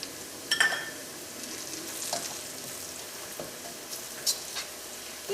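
Turmeric powder frying in hot oil over golden-brown onions for a spicy chicken curry, a soft steady sizzle with a few brief stirring scrapes and clinks, fairly quiet and with no talking.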